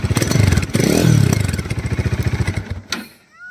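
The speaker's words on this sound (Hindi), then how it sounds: "इसका एग्जॉस्ट जो निकला हुआ है इसको अभी सुनाते हैं।" A Bajaj Dominar 400 motorcycle idles with its side silencer removed, sending out a loud, close, rapid throbbing exhaust pulse. The engine revs briefly and then quickly drops off toward silence.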